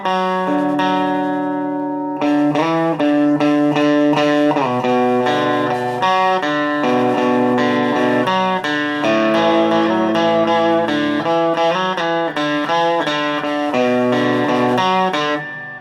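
Electric guitar played through a Blackstar HT 40 combo amp with its digital reverb set halfway, a run of clean picked notes and chords ringing with a spacious tail, loud and continuous with no voices.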